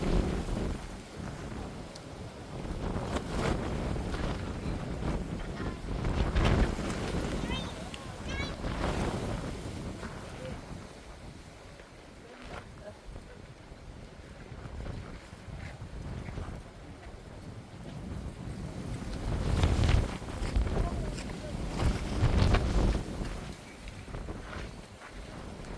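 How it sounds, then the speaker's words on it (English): Steady wind buffeting the microphone outdoors at Läckö Castle in Sweden at night, with rushing gusts that swell louder near the start and again toward the end, alongside faint water movement. "It's a little bit windy."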